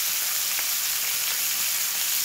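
Fish frying in a pan for a thin tomato curry, a loud steady sizzle of hot oil with faint crackles and no voices.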